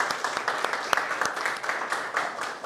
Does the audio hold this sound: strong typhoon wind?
no